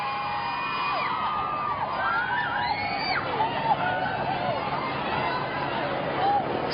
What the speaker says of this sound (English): Stepping out to some marvellous applause